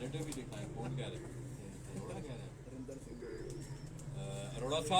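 Domestic Tausi pigeons in a Lahore loft coo in low rolling phrases. The calls are partly masked by people talking nearby, with a few faint chirps.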